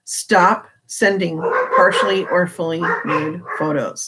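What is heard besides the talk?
dogs barking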